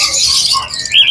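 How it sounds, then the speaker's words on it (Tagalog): Birds chirp at a pet market, with shrill squawks and bright tweets close by, crowded together in a short burst. "Ito, puro ibon dito. Ang daming ibon."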